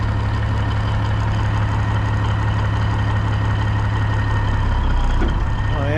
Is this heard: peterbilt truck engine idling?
yes